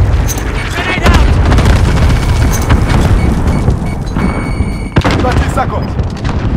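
Call of Duty: Modern Warfare match with constant heavy booms, rapid gunfire and a sharp blast near the end, loud and dense, with voices speaking over the battle.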